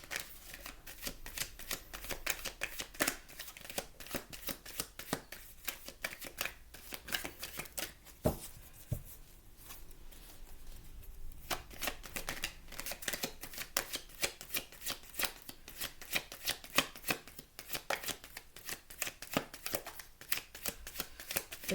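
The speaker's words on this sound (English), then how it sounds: "This is why I usually pre-shuffle, because I feel like this takes forever to do." Tarot cards being shuffled by hand, a long run of rapid crisp riffling clicks with a brief pause midway, close and fairly quiet, no voices.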